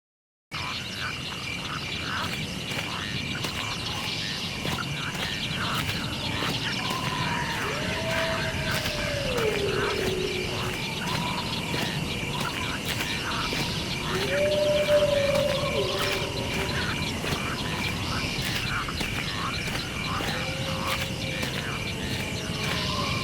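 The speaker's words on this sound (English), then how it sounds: "You can hear this croaking sound." Croaking frog in a binaural environmental sound scene, a few distinct rising-falling croaks repeating every several seconds over a constant hissing ambient bed with a faint steady tone.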